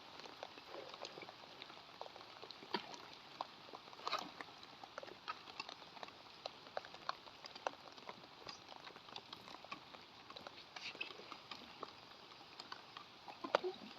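Rain falling outdoors on a morning at a fishing spot, a steady fine patter of scattered drops with soft irregular taps spread evenly throughout, quiet and without any talking.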